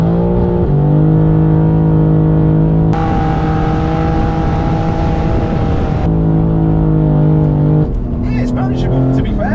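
A stage 2 BMW G80 M3 accelerating hard in second gear on a rolling road, its engine note climbing loud and steady with a gear-like step in pitch partway through and a brief easing near the end.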